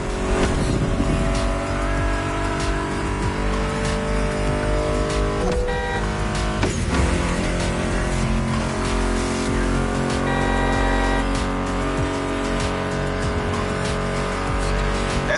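Race car engines roar continuously in The Crew Motorfest driving game, with rising and falling revs, gear shifts and bursts of tire squeal across the whole stretch, loud and up close alongside background music.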